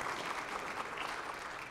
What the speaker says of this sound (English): round of applause for our players, please